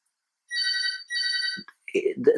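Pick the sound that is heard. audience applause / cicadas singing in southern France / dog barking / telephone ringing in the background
telephone ringing in the background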